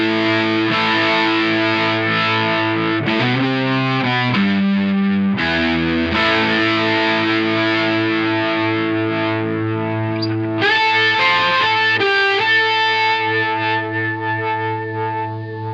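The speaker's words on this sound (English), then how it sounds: "And here it is with the distortion after the pedal." Distorted electric guitar with the distortion after a Boss MO-2 Multi-Overtone pedal, a dense, saturated lick of held and bent notes with added octave-like overtones, loud and steady throughout with a sustained ending.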